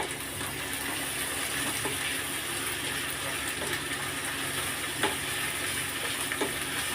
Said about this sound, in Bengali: একটা দিয়ে আমি একটু নেড়ে নেবো